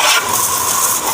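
A hose sprays water while a motorcycle gets washed, a loud, close, continuous hiss with no pause across the short moment.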